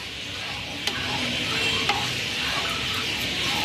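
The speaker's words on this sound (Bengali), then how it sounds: "ভেজে রাখা কারি পাতা তেল সমেত দিয়ে দেব। ভালো করে মিশিয়ে নেব।" Fried curry leaves and their oil being stirred into a pot of dahi kadhi, a soft continuous scraping and swishing with two brief clinks from the utensil, close and steady throughout.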